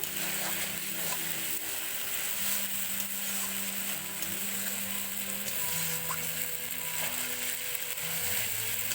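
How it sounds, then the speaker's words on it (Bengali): A spice paste with added water sizzles steadily in a pan while being sautéed for a homestyle meat curry, a constant loud frying hiss with faint stirring scrapes. "দেখুন, সুন্দরভাবে কষা হচ্ছে।"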